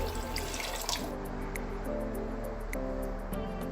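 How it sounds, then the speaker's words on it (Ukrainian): Water runs from a tap into a large cooking pot in a home kitchen while making chanakhi stew, a steady close pouring rush with a faint ringing hum beneath and light drips. "До чанахів доливаю воду."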